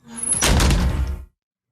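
Heavy door slammed hard, a loud close thud with a broad, rattling crash that rings for about a second before cutting off, alone in a storybook setting.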